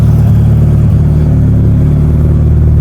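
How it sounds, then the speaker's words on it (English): A Mitsubishi Evo, fuelled with E85 and on its way to a dyno, idles close by with a loud, steady low rumble and a smooth, even beat. "How good it's idling"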